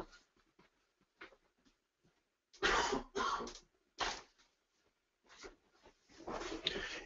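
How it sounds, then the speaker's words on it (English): Several short coughs and throat-clearing bursts from a nearby person, irregularly spaced with quiet gaps between, alone without speech. "I'm sorry for this little cough I've got."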